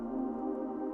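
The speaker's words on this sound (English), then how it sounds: "the first pad is more of a soft pad" Soft, mellow synth pad sustaining chords, a smooth, steady tone held quietly throughout one brief moment without talk.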